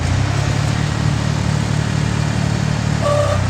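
An Agri Globe 254 4x4 tractor's engine idles steadily nearby, giving a constant low, throbbing rumble throughout with no voices.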